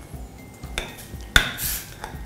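Metal spoon scraping and clinking against a pot while vegetables are stirred, a couple of sharp clanks amid soft rustling.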